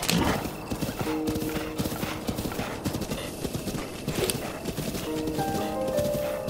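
A horse in Zelda: Breath of the Wild gallops with rapid, steady hoofbeats throughout, joined by whinnies near the start and again toward the end, loud and close.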